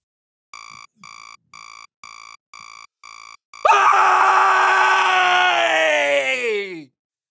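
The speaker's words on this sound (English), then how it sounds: "when I wake up in the morning, I have a habit of screaming before I do anything else" A person screams loudly and long, a sustained strained cry that trails off, after a run of short electronic beeps.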